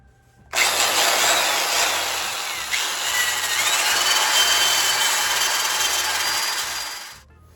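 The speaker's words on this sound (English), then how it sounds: "we did some initial cleaning just with the wire wheel to get like the top grunge off" Wire wheel on a power tool cleaning grime off a small-block Chevy cylinder head, a loud continuous whirring grind that starts abruptly, holds steady for several seconds and then winds down.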